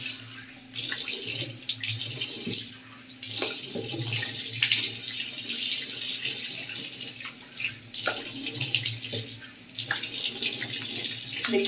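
Tap water runs into a sink during a face wash, a close, continuous splashing stream broken by a few brief pauses and uneven gushes as hands move under the flow; no one speaks.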